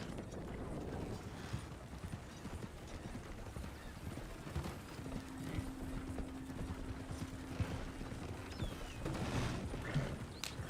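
A horse's hooves clip-clop in Red Dead Redemption 2, fairly quiet, irregular steps blended with ambient game noise and a brief sustained tone in the middle.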